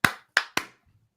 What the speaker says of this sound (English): So if you're ready, let's clap in.